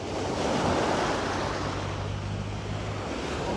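Ocean waves roll onto a beach on a windy day, a loud steady wash of surf with wind buffeting the microphone throughout and no voices.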